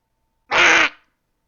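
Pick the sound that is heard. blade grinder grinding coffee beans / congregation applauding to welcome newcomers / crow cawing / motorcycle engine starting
crow cawing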